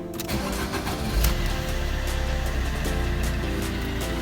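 A car engine cranks and catches, settling into a steady, loud rumbling idle.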